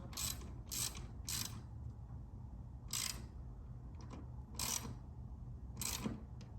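A ratchet loosening the headlight mount bolt on a 2016 Harley Davidson motorcycle, with bursts of close, quiet clicking ratchet strokes and short pauses between them.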